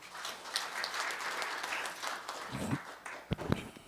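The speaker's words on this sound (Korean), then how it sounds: "다 같이 뜨거운 박수 부탁드리겠습니다" An audience at a forum applauds a speaker as he is introduced: a soft, steady patter of clapping from a room full of people, heard faintly and continuously, with a few louder claps near the end.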